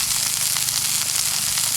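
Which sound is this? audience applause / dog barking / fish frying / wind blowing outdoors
fish frying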